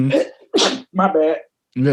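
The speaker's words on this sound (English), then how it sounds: "And for those who just saw me sneeze" A single sharp sneeze bursts out between a woman's conversational remarks, close and loud against her surrounding speech.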